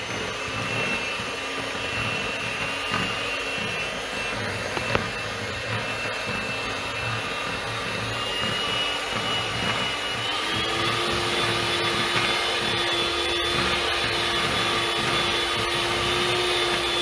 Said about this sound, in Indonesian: Kita mixer.